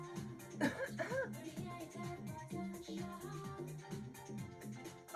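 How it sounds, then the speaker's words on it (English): A group of people coughing on purpose in a breathing exercise, harsh repeated coughs overlapping in an uneven rhythm at moderate distance, mixed with groans and vocal sounds. "Just start coughing. Keep coughing."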